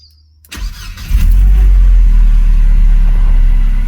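A 2001 Mercedes SLK 170, just repaired after a no-crank, no-start fault, cranks and starts after a short quiet pause, then settles into a loud, steady low idle close by.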